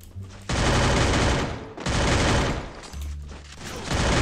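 Sustained bursts of automatic gunfire in a squad battle-royale shooter game, loud and close, roughly three long volleys separated by brief gaps.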